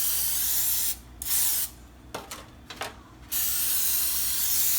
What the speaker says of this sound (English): you're just gonna go ahead and spray them with some cooking spray.